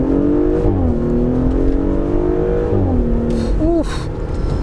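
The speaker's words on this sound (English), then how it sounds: "you don't really get to hear that engine roar as much as it sounds outside, which is, it's quite loud" Audi SQ5 with a 3.0-litre V6 TFSI engine revving loudly and steadily, pitch rising and falling through several sweeps, with brief tyre or chirp sounds near the end and a continuous dense exhaust roar throughout.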